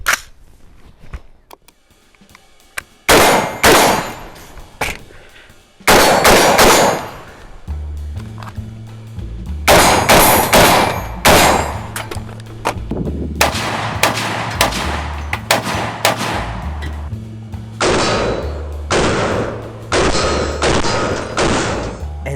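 A Sig M400 Tread Predator AR-15 rifle fires a series of sharp, loud shots in irregular groups, some single and some rapid strings, each with a short echoing tail outdoors.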